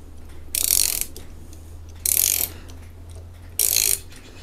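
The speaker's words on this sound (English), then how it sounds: "we don't have enough friction in here to make the ratchety guy do its ratchety thing" A Saker universal socket wrench ratchet spun by hand, three separate bursts of rapid clicking about a second and a half apart, close and fairly loud against a quiet background.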